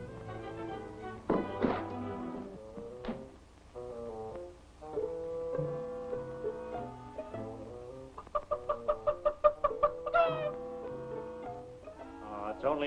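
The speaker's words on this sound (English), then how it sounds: "only a chicken." A chicken in a barn clucks and squawks in short bursts, ending with a quick rapid run of clucks, moderately close.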